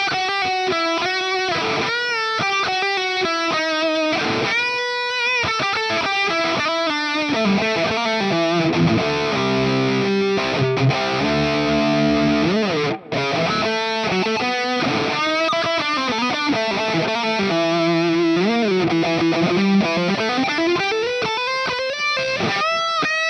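Electric guitar plays a flowing melodic line from a song with a slightly driven tone, notes trailing into analog delay repeats and a wide, lingering plate reverb wash.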